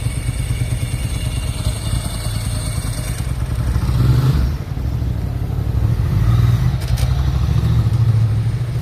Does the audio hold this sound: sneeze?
no